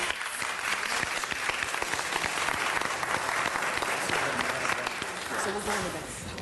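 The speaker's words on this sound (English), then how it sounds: "Let's give Ms. Perry a round of applause." A round of applause from the audience at a city council meeting, steady many-handed clapping held at a moderate level for several seconds with faint voices underneath.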